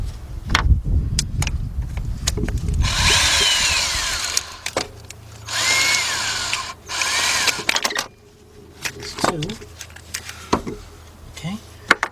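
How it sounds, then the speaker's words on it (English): A cordless impact gun with a drive extension spins out starter bolts on a 2003 Nissan Altima in three short whirring bursts, mixed with nearby metallic clanks and handling knocks. "drive extension on my cordless gun"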